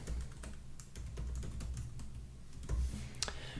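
Quiet clicking of computer keyboard keys as a password is entered, a steady patter of keystrokes over faint room noise, with no voices.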